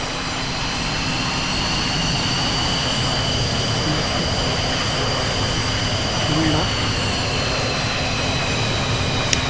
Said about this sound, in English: And then we turn on the engine.